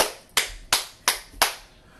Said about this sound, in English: Round of applause to all y'all